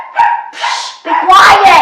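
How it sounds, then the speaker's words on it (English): A pet dog indoors lets out several sharp, loud barks and yips in quick succession, close to the microphone. "sorry if you can hear that, my dog Rocky is going hang wire"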